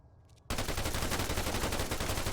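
Loud machine gun fire erupts abruptly in the military shooter Arma 3, a continuous rapid burst of automatic shots following a brief quiet moment with faint background noise.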